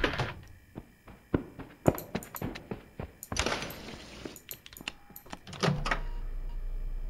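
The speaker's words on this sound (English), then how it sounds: "Close the door!" A door slamming shut in the horror video game Graveyard Shift at Freddy's, among a rapid series of sharp thunks and mechanical clanks, loud and close, ending in a steady low hum.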